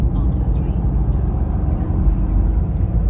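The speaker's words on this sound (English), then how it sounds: "Just give you a little buzz of the road in this lovely V8 Defender 90." A 2022 Land Rover Defender 90 with a V8 engine driving on the road, its low engine rumble and road noise steady and close, with faint higher tonal whine from the drivetrain.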